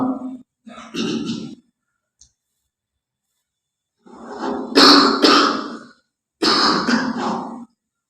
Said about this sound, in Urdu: کھانسی وغیرہ کی